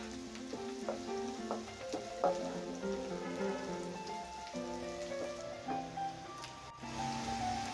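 Chopped onions and half a teaspoon of crushed whole coriander sizzling softly in a pan for a zucchini (toree) curry, a steady faint crackle with light stirring and no voices.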